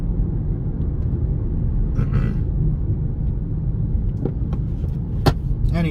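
Hyundai Kona driving down the road with lane assist engaged, heard from inside as a steady low engine and road rumble with a few faint clicks and taps, no voices.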